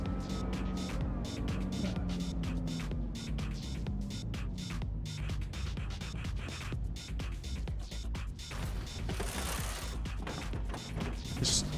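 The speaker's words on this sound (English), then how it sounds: "This always feels like the slowest pit in the world at Laguna That Seca." Pit stop at Laguna Seca in Forza Motorsport, a steady mechanical whir and clatter of the car and pit work with ratcheting tool-like ticks, continuous throughout, with a few voices mixed in low.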